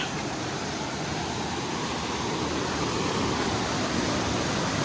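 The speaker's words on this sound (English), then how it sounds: "I'm just going to say that waterfall's big." Loud, steady roar of rushing water, broad and unbroken from start to finish, like a big waterfall heard from nearby: Mae Ya Waterfall in Chiang Mai, Thailand.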